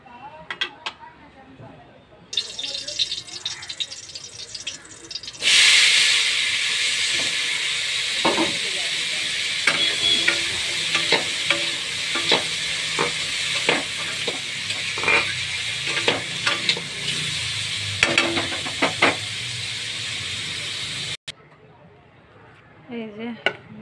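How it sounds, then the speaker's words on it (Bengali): Radish frying in a pan bursts into a loud sizzle a few seconds in and hisses steadily for most of the stretch, broken by sharp spatula clatters against the pan and occasional voices, before cutting off near the end. "এবার শুধু মূলোটা ভেজে নিলেই হয়ে যাবে।"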